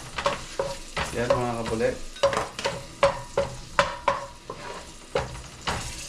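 Garlic sizzles in a hot pan for chicken tinola, with repeated stirring strokes and scrapes over a steady fry, and someone speaks briefly.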